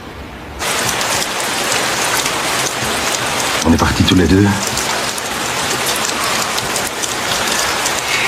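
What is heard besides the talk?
heavy rain falling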